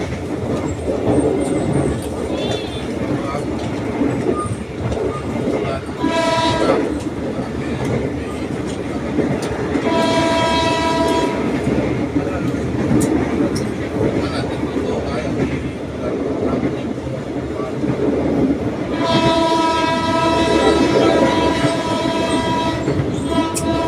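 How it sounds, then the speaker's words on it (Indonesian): An Indonesian economy-class passenger train on the Lubuklinggau–Prabumulih line blows its horn repeatedly at level crossings in town. Three long, loud blasts sound over the steady rumble and clatter of the moving carriages. "klakson kereta terus berbunyi karena kita memang banyak melewatin perlintasan dengan jalan"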